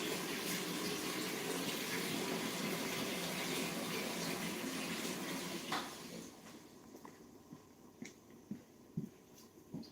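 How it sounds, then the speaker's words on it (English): Fresh water running from a kitchen tap during prep in a restaurant kitchen, a steady loud stream for about six seconds that cuts off, followed by a few scattered clinks and drips. "So I have here some fresh water."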